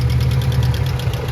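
A Honda Prelude engine idling with a persistent tick, a close, loud, steady low rumble carrying a fast regular ticking pulse throughout the short stretch.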